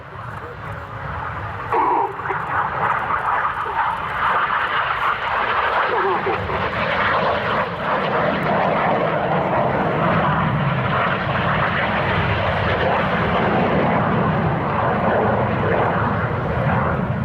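BAE Systems Hawk T1 jets of the Red Arrows roar through a display at an air show, a loud sustained engine rush, while a commentator talks over it.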